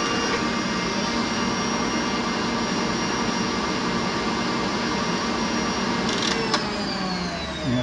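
An electric mixer whips egg whites to a frothy consistency for a lemon meringue pie, giving a steady, loud, even whir with no speech over it from start to finish.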